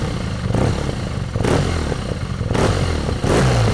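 A BMW R NineT flat-twin motorcycle engine revs in short repeated bursts, the throttle blipped about four times, each rise loud and close with a rough, throbbing growl.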